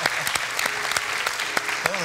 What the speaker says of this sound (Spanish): Sí, un aplauso. A la orquesta.